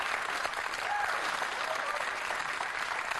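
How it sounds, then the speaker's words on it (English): Studio audience at a comedy panel talk show claps in a steady, fairly loud wash of applause that fills the whole stretch, with a few faint whoops rising over it. "I try to discourage applause."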